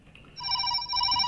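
An electronic phone ring starts abruptly and sustains a steady, bright tone, close and clear, with no talking.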